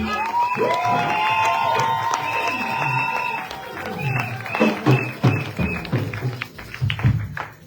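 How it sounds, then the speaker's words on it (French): A church congregation at a Sunday service cheers with sustained raised voices, then breaks into brisk, loud clapping that continues to the end. "On va l'applaudir."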